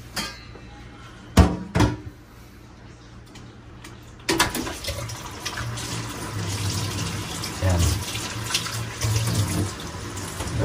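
A cooking pot washed under running tap water, opening with a couple of sharp knocks before the faucet starts at about four seconds, then a steady close gush with splashing and clunks of the pot.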